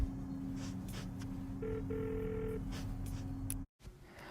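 Phone ringing from the Fortnite Call Me emote: a steady electronic telephone trill with short higher tones layered on top, running for a few seconds before cutting off abruptly.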